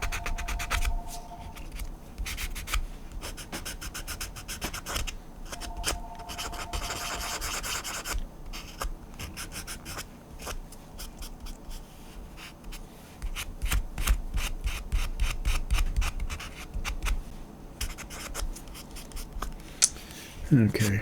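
Steady scratchy rubbing of sandpaper against small Star Trek bridge model parts continues in bursts, close and fairly quiet, with brief pauses between strokes.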